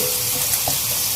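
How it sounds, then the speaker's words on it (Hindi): Chopped onions fry in a karahi for a dry potato, pea and tomato sabzi, giving a steady, close sizzle over a brief moment. "प्याज आपको इसके अंदर चॉप करके ही डालनी है"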